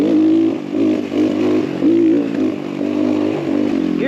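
An X Pro Templar 250cc dirt bike engine drones loud and close on a trail ride, its revs rising and falling in waves with some chassis clatter, no voices.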